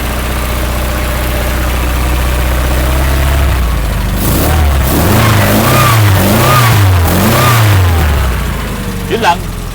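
An old sports car engine idles low, then revs up and down several times in repeated surges, close by, with voices talking over it.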